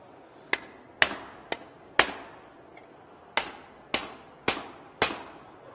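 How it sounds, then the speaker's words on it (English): Sharp hammer blows strike sheet metal laid on a shot bag, eight crisp, ringing impacts at an uneven pace with short gaps between them, near and loud. "just the few hammer blows that you've done there have already started to create those tucks that we're looking for"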